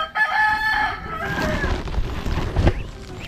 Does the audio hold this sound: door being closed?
no